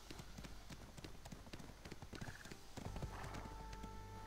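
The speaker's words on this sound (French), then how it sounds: "Il est beau mon cheval, hein." Horse hooves clip-clop steadily in Black Desert Online, a quick, even rhythm of hoofbeats under faint game ambience, with a brief whinny-like tone partway through.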